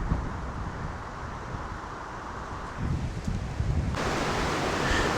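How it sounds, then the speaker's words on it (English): Strong wind blowing outdoors at a grotto, a steady loud rushing roar across the microphone that grows harsher and fuller in the last second or so, with no talking. "It's very windy here today."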